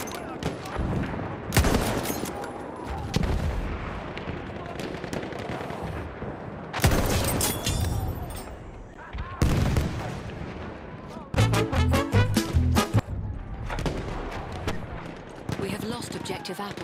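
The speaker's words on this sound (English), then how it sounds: "Machine gun over there." Machine gun fire and explosions fill a Battlefield 1 video game match, with dense rapid bursts, heavy booms and chaotic battle noise throughout, while a player talks over it.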